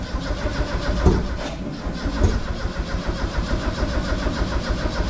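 A turbocharged Zetec engine in a Mk2 Ford Fiesta cranks steadily on the starter, with a busy, continuous churn and two brief louder surges, but it never catches or settles into an idle.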